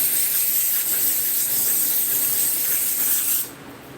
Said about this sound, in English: I'm going to go ahead and just spray that off and make it look good.